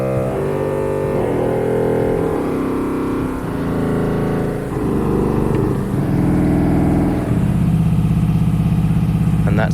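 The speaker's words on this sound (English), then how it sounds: "There's also a 32 foot reed, which sounds like this. I'll play you from middle C downwards." A 32-foot reed stop on a pipe organ plays a slow descending run of low notes from middle C downward, each a buzzy, rumbling tone, loud and sustained with no one talking over it.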